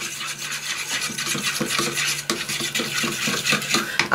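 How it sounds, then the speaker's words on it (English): Egg and milk being mixed in a bowl for eggy bread, a steady close scraping and rubbing stir with small clinks of utensil against the dish. "And I'm going to mix it all in."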